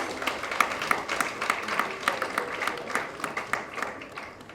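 Audience members at a public relations and communications conference give a round of applause, a fairly sparse, uneven patter of individual claps with distinct sharp hits throughout.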